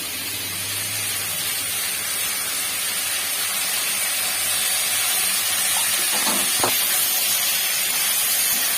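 Panch phoron, radhuni seeds and ground ginger-chilli paste hit hot oil for shukto, giving a continuous loud frying hiss with a few light utensil knocks near the end.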